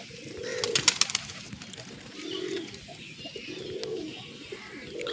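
A male pigeon coos nearby in a series of soft, low, rounded calls, repeated about four times. A few higher chirps and faint background noise come through between the calls.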